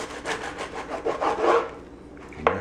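A knife saws through a turkey club sandwich with a run of quick back-and-forth rasping strokes, close and moderately loud, ending in a brief sharp scrape and no talk.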